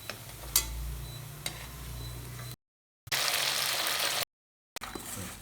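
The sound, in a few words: frying colocasia (sembu) in oil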